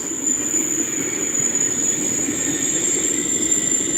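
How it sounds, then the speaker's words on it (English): New, smaller electric trains roll past close by, with a steady loud rumble and a thin, sustained high wheel squeal riding on top. "I think those are the new trains."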